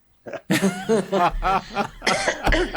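A few harsh, close coughing bursts in a row, loud and abrupt, with a short throat-clearing sound mixed in.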